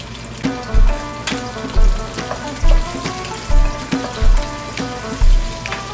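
Food sizzles and crackles in hot oil, a steady frying hiss broken by regular low thumps about every second.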